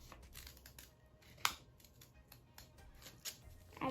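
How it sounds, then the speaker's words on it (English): Scissors snip through paper for an origami Christmas tree craft, a few short crisp cuts in a quiet room, close and fairly soft with a sharper snip partway through. "I'm gonna cut it till that line"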